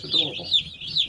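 Cornish Cross chickens give a few soft, high cheeping clucks close by in a brief, steady sequence.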